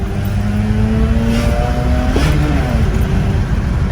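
A Mazda RX-8 with a bridgeported rotary engine accelerates hard from inside the cabin, the buzzing engine note climbing in pitch, then dropping briefly at a gearshift into third and climbing again, loud and continuous throughout.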